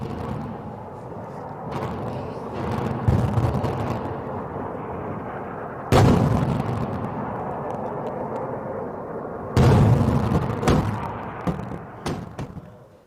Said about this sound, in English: Trails of smoke have been seen rising into the sky in northern Israel as sirens sounded, with explosions heard shortly after.